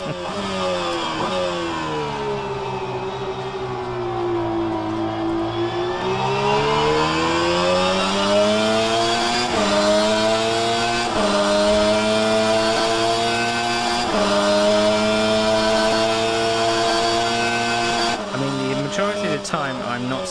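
A Super GT500 race car engine in a racing game at Suzuka drones loud and continuous for twenty seconds, its pitch climbing and dropping through repeated gear shifts under heavy acceleration, with no talk over it.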